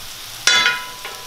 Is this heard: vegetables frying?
yes